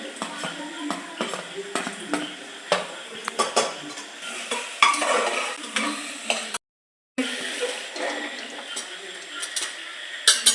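Spoon stirring chopped vegetables with ginger-garlic-green chili and coriander thecha in a pan for Maharashtrian masale bhat, frequent metallic clinks and scrapes over light sizzling, close, with one brief silent gap.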